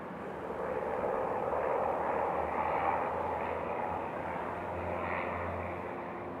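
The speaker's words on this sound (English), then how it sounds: "this is Flight Guest Academy out here doing some touch and goes." A small flight school training airplane doing touch-and-goes at Raleigh-Durham International Airport, its engine a steady broad roar that holds for several seconds, then eases slightly and swells again, heard from a distance with no talking.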